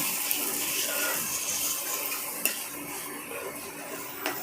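Spicy egg pasta sauce with green chilli and chilli sauce being stirred in a pan, a steady close scraping and soft sizzle with a few sharp utensil clicks against the metal.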